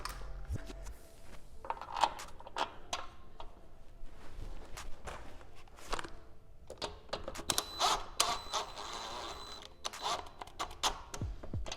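Extended BMS wheel bolts being hand-threaded onto a BMW M340i hub, with scattered close metallic clicks, taps and clunks of bolts and tools at uneven intervals against quiet garage background.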